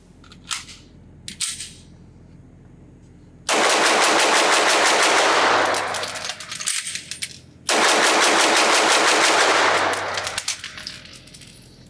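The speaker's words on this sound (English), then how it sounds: "can I shoot this gun fast? Yeah, even with the heavier trigger, I can shoot it pretty fast." A CZ P-10 C optics-ready striker-fired pistol fires at a range in two loud, rapid strings of closely spaced shots, each lasting a couple of seconds, with a few scattered single shots and quieter range noise between.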